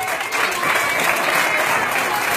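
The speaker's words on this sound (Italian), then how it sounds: "Facete un applauso." A live concert audience applauds, giving a dense, loud, continuous clatter of clapping with no break.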